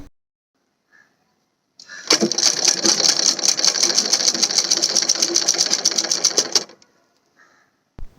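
A sewing machine stitches a cotton saree blouse in one run of about five seconds, a fast, even rattling whir that starts and stops abruptly. Soft clicks of handling come before and after, and nobody talks.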